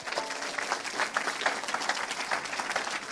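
A church congregation applauding and acclaiming the Lord during a service in Evry: sustained, dense clapping from many hands, steady and lively throughout, with faint voices mixed in.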